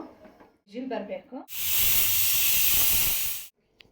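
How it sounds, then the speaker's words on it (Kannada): A loud, steady pressure cooker whistle hisses for about two seconds, starting abruptly and cutting off sharply, with brief talking just before it. "ಇದು 2 ವಿಜಿಲ್ ಬರಬೇಕು."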